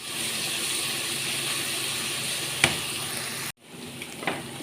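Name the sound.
garlic ginger paste frying in oil in a wok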